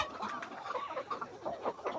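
Chickens cluck steadily on a small poultry farm of about 380 birds, a dense overlapping chorus of close, busy calls with no speech.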